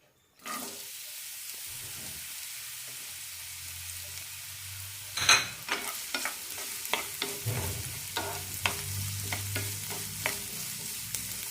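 Thinly sliced bitter gourd pieces fry in a tablespoon of oil in a pan, a steady close sizzle broken by repeated spoon scrapes and stirring clatters in the second half, with no voices.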